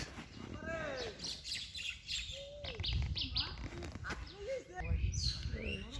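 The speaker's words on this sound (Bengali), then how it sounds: "পাখি কিচিরমিচির করছে।" Small birds chirp and tweet around a village home beside a date palm, with repeated short rising and falling calls layered over a busy outdoor background; voices murmur faintly among them.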